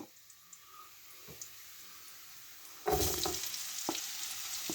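Onions tossed into a pan with sprouts hit the oil partway through, jumping from a quiet hiss to a louder, steady sizzle with stirring clicks.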